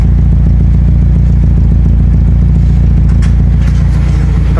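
A Nissan B14 car engine idling just after its timing was adjusted, a loud, close, steady mechanical drone with a rhythmic ticking pulse throughout, heard alone without talking.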